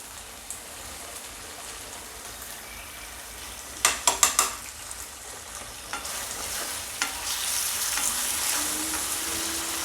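Soybean manchurian fries in dark soy sauce, tomato sauce and a cornflour mixture over a high flame. A constant sizzle runs throughout, with a quick cluster of clattering stirring strokes midway and a louder, hissier frying toward the end.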